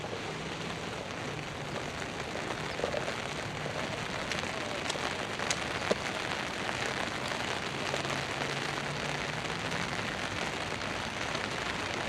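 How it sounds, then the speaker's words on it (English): Steady rain falls at the Palace of Fine Arts in San Francisco, pattering on surfaces in a continuous dense hiss, with occasional heavier drips, no voices. "It was raining pretty good there for a minute."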